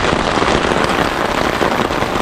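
Heavy monsoon rain pours down in a loud, dense, unbroken hiss, close by and constant.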